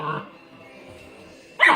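A German Shepherd puppy lets out two sharp, close barks at a Coke bottle, one at the start and a louder one at the end, separated by a quiet pause.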